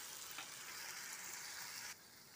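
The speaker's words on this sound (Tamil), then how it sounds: "இஞ்சி பூண்டு பேஸ்ட்டு போட்டு வதக்கிக்கிறோம்" Ginger garlic paste sautéing in a hot pan for an egg thokku gives off a steady, close sizzling hiss that eases slightly toward the end.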